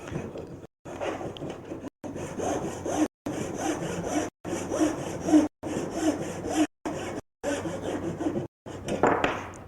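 A Japanese hand saw cuts the shoulder of a wooden tenon, with repeated rasping strokes in an even rhythm broken by brief pauses between pushes, close and clear.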